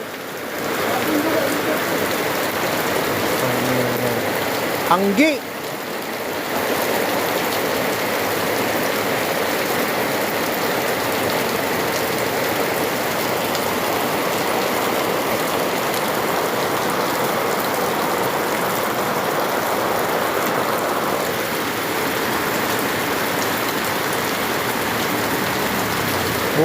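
Heavy rain pouring down on a road during flooding, a loud unbroken hiss of water with a brief clatter and a shout early on, steady and close throughout.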